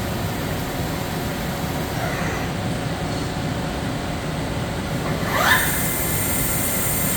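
The spindle of a Yama Seiki VP-2012HD CNC bridge mill runs with a steady, even mechanical hum and whir throughout, alone and without talk, with a faint rising whine near the end.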